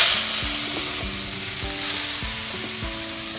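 Mustard greens stirred in leftover fish-frying oil in a village kitchen give a loud steady sizzle, broken by repeated scraping strokes of a utensil against the pan.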